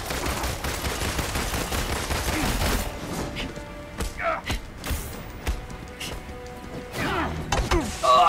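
Gunfire in the Avengers campaign beta game: dense rapid shots and crashing impacts at first, thinning into scattered bursts and bangs amid game effects, with a voice speaking briefly between the shots.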